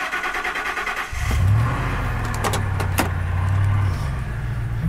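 A 1999 Ford F150 truck with a fuel leak, unstarted for two days, cranks briefly then catches and settles into a steady, fairly loud idle with a slight rise in revs, heard up close.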